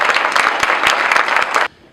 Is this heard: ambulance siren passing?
no